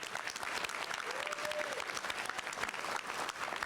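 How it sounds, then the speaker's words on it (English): Audience applause for the Frison Quartet, a full hall of clapping hands going on steadily, with a brief tonal whistle or squeal rising over it midway and faint voices mixed into the crowd. "Let's give another round of applause to the Frison Quartet."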